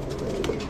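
Pigeons in a keeper's loft coo in a low, soft rolling burble, close by, lasting under a second.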